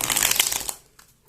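A deck of Essential Tarot cards being shuffled, with dense, crisp riffling up close that runs for most of a second before stopping, followed by a single faint soft card sound.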